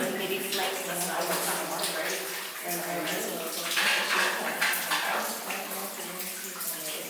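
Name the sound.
water draining out of tunnel by gravity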